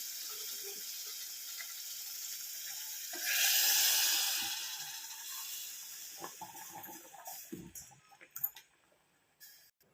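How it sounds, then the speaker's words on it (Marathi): Hot water rushes and splashes into a cooking pot in a short burst over a steady background hiss, followed by scattered clanks and knocks. "जे गरम पाणी केलेलं आहे आपण ते पण टाकून घेऊया"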